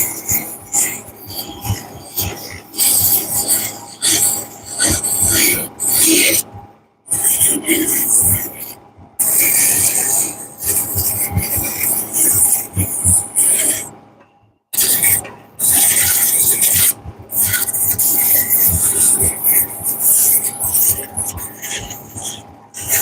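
A whittled wood carving, including its hat, is sanded by hand with 150-grit paper, producing steady raspy scrubbing strokes in bursts with short pauses between them, up close, with a voice talking over much of it.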